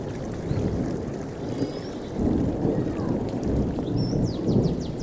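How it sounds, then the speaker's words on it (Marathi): Heavy rain pours steadily in a dense broadband roar, with low rumbling thunder swelling through it near the start and end; no voices are heard. "जोरदार पाऊस चालू."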